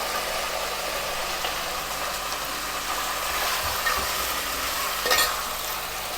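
Chicken and browned onions stirred in a pan over a gas flame, with a steady broadband sizzle throughout and occasional scraping knocks of the spoon, close and fairly loud, no talk.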